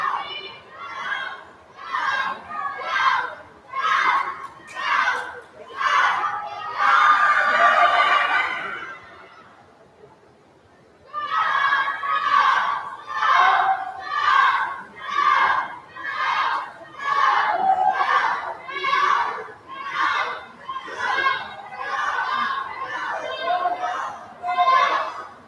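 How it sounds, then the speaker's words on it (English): A crowd at a swim meet cheers a swimmer in loud rhythmic bursts, chant-like and steady, with a brief lull partway through before the cheering resumes. "Everybody's over there cheering Sophie on down on the other end."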